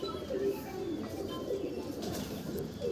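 Madras pigeons coo steadily in a loft, a dense layered murmur of overlapping low calls that carries on without a break, close and moderately loud.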